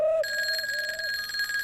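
A telephone rings in a police commissioner's office, a steady electronic ring tone held continuously and alone at moderate volume.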